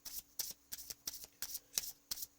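Tarot cards are pulled and handled from a deck in a quiet room, making seven quick, evenly spaced papery flicks and slides.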